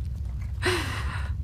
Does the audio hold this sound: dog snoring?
yes